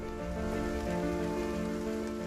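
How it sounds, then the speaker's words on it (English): Heavy rain pours steadily on an exposed Lake District fell with the clouds down low, a dense continuous hiss of drops on the surfaces all around, unbroken and fairly close throughout. "it was now pouring with rain."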